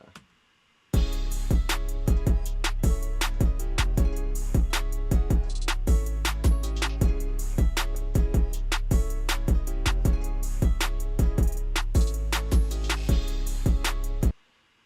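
An original hip-hop beat plays before mixing, loud and steady, with heavy 808 bass and a punchy kick landing in a regular rhythm under repeating melodic hits. It starts abruptly after a second of silence and stops cleanly at the end.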